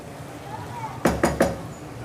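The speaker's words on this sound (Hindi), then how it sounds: "अब मैं इसकी भुनाई करूँगी" Chili chicken karahi masala is roasted in a pan, and a spoon knocks against the metal three times in quick succession, loud and close, amid a low background hum.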